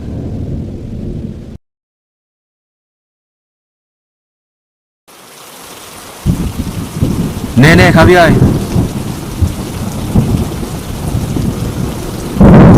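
Steady heavy rain pours loudly, with thunder rumbling through it; a brief spoken line comes first, then a gap of near silence before the downpour resumes.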